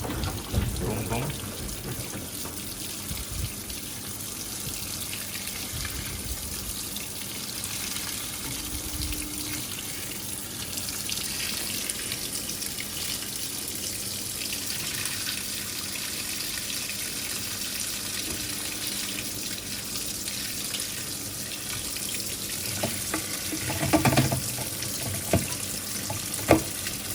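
A Simpson Enduro washing machine fills with hot water under strong pressure, producing a steady rushing, hissing flow that runs unbroken throughout, with a few brief knocks near the end.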